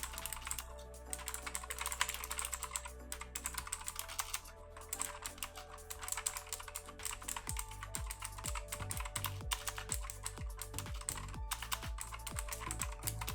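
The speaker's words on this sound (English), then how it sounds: "here is a sound test of those switches" Cooler Master MasterSet MS120 keyboard switches clack in a rapid, close-up stream of keystrokes, with no one speaking over the typing.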